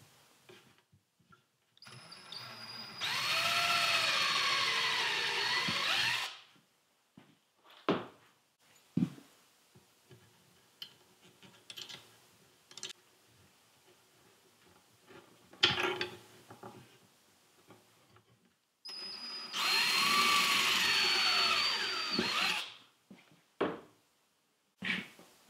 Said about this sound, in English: I'm going to pre-drill for these.